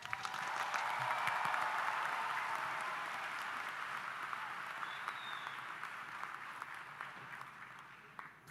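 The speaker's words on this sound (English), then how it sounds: "Let's give a round of applause for all my fellow peers." A large crowd at a high school commencement gives sustained applause, a broad dense roar of clapping that swells early and slowly tapers, with faint crowd voices mixed in.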